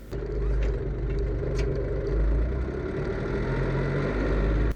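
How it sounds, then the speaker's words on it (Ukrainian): Tractor ploughing clay garden plots with an improved hitch, its steady mid-pitched engine drone continuous and close throughout, with faint intermittent clicks and scrapes from the hitch shifting between upper and lower positions. "От дуже добре чути на відео, коли трактор заїжджає в борозду, перещолкується навіска з верхнього положення в нижнє положення."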